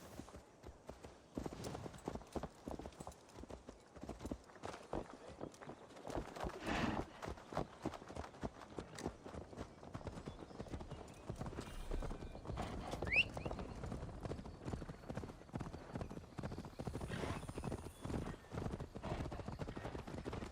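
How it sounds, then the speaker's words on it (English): Horse hooves clip-clopping steadily in Assassin's Creed Valhalla, a continuous rhythmic trot with an occasional snort or whinny, moderately loud throughout with little talk over it. "Not gonna ride one of your plebeian horses when I have Pisteer."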